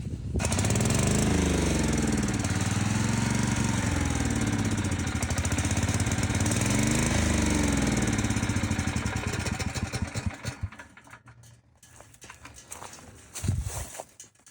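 A small portable generator engine runs loud and steady with a rough, pulsing drone, then sputters, falters and cuts out near the end, leaving faint intermittent sounds.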